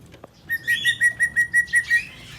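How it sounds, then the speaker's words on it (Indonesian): A male cucak cungkok songbird kept as a master bird for training competition songbirds sings a clear, close series of about ten evenly spaced, ringing whistled notes, alone, after a brief soft click. "ada cucak cungkok"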